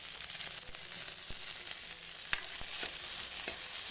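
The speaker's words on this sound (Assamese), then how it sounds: "গৰম তেলখিনিত মই শুকান জলকীয়া আৰু পিঁয়াজ দি দিলোঁ। এইখিনি অলপ ভালদৰে ভাজি ল'ম।" Dry red chilies and onion frying in hot oil, a loud steady sizzle with a few sharp pops and spits, heard up close and alone.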